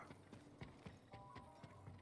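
A horse gallops in the video game Ghost of Tsushima, quick rhythmic hoofbeats clopping close and clear with a faint whinny-like tone, quiet overall with no talk.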